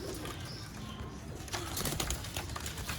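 Pigeons coo softly amid a dense, noisy background of rustling and flutters, with no clear speech, in Sialkot.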